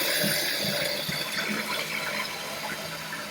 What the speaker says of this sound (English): You need to pull that chain and pull the flapper up to flush the toilet.